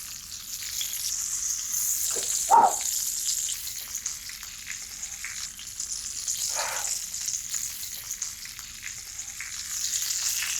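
Endive halves sizzle and fry steadily in a hot pan, caramelizing, with a constant bright hiss that swells briefly around a couple of moments, close and alone.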